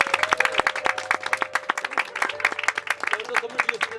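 A church congregation applauds during a Korean Presbyterian Sunday service, distinct sharp claps in an uneven rhythm from a smallish group, with a sustained musical tone and faint voices underneath.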